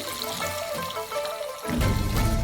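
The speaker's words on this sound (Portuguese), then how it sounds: "Depois enchemos a frigideira com água." Water is poured into a frying pan of sautéed black beans, a soft trickle that swells into a louder, rushing pour partway through.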